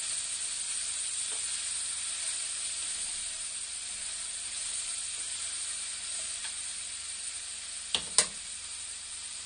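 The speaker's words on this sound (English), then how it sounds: "I'm going to add the bread. Give that a good stir." Bread frying in a pan gives a steady close sizzle with a faint hiss throughout, broken near the end by two brief sharp clicks, likely from stirring.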